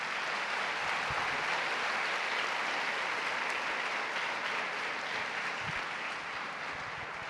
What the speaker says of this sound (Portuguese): aplauda o nome de Jesus Cristo.